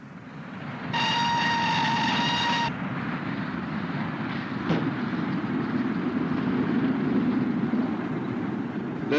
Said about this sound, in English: A net is swung out from the train as it approaches the standard.